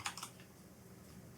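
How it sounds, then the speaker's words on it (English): Keys on a computer keyboard are tapped in a few quick, quiet clicks at the start and again at the end, with near silence between. "here begin typing in the time and the title for each chapter"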